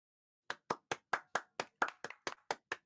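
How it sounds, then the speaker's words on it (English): A single pair of hands claps about a dozen times in a quick, slightly uneven rhythm, close and crisp against silence, with no voices. "Big claps."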